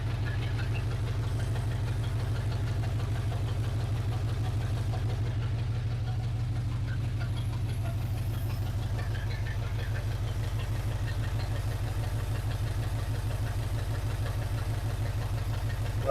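A 1980 Chevrolet C10 Cheyenne square-body truck's V8 idles with open exhaust, a steady, close, low rumble with a fast even pulse holding constant throughout.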